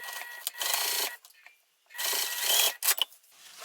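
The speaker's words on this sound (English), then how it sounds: "We're going to sew these pieces together the same way we did with that full seam allowance" A sewing machine stitches lining pieces together in two short bursts of rapid, even needle clatter, separated by a quiet pause and a few clicks, close and alone.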